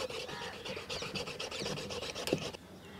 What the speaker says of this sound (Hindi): तो आरी ही चलाना पड़ेगा।